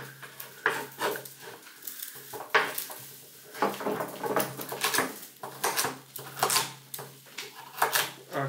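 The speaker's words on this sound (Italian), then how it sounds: "nello stesso tempo io tagliere 5 carote" A knife chops five carrots on a cutting board while making carrot soup, giving irregular sharp knocks in short bursts, near and distinct against a quiet kitchen.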